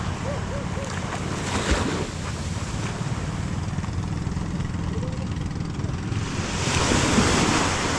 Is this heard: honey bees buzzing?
no